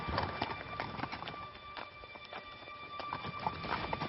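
Horses clip-clopping with hooves striking at an uneven pace, joined by faint snorts and rustling in an outdoor setting; no one speaks.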